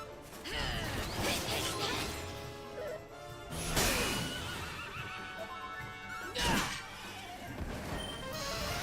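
Horses neigh and whinny repeatedly over a dense, busy Dragon Quest game soundtrack, with sharp crashing bursts near the middle and end.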